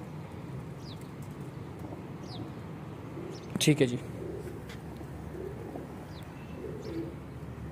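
Golden pigeons coo softly and keep up faint chirps over a low background hum, with a brief louder burst in the middle, while someone talks briefly nearby.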